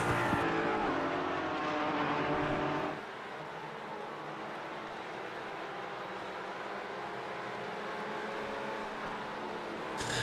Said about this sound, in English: And cars spread out and racing all over the track at this point.